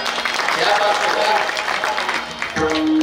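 Audience applause for a performer, a burst of clapping from a crowd, mixed with a person speaking over it.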